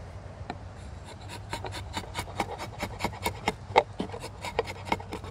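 A drawknife slices across wood in a rapid series of short, crisp shaving strokes, each a sharp rasping pull, growing louder and more forceful toward the end.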